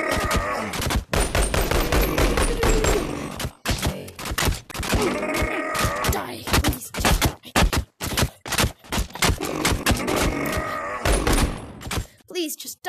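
Gunfire in the video game Bonelab comes in rapid bursts and repeated sharp shots, loud and close, separated by brief pauses, with a player's voice shouting intermittently over the shooting.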